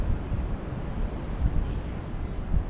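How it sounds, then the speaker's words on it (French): Strong wind over 60 km/h buffeting the microphone of a DJI Mini 2 drone, a constant rumbling roar with gusty swells, no voices. "j'ai des vents qui dépassent les 60 km/h"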